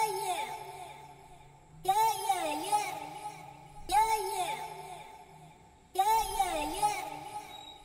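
Vocal sample in an FL Studio Amapiano beat: a chopped, pitched singing phrase repeats in three two-second bursts over a soft sustained pad, with gliding melismatic vocal lines, moderately loud and alone.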